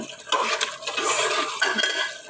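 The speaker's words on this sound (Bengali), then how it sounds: "এই যে চাল ডাল দিয়ে দিলাম।" Rice and lentils are tipped into a pot of chicken for khichuri, with close clattering of a spoon against the pot and a rattling, scraping shuffle of grains being stirred in, brief and fairly loud with no speech.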